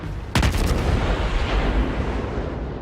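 Heavy naval gun salvo from a Baltimore cruiser in World of Warships, a loud booming blast at the start followed by a sustained rumbling roar that lingers to the end, with no talking.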